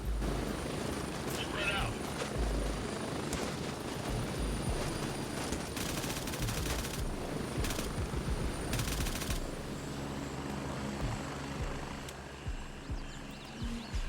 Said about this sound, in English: this is his heli to get him out